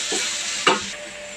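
Capsicum and other vegetables fry in a pan with a continuous sizzle, broken by two stirring scrapes, the second one louder and closer, and no one speaking.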